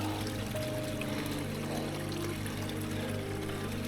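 Cold, clean mountain water filtered through sand and moss trickles and pours steadily nearby on a hike up Mt. Louie, a soft continuous wash without pause.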